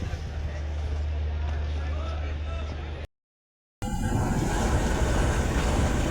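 Awam Express train standing at a railway platform, a steady rumbling train and platform din with crowd babble throughout, broken by a brief silent gap before the noise resumes louder.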